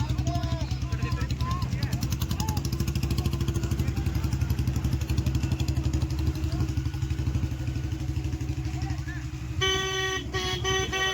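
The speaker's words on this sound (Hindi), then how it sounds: "मोटरसाइकिल आ लेनी पीछे" A motorcycle engine runs steadily and close for the whole stretch, with a loud horn tooting near the end and people talking over the noise.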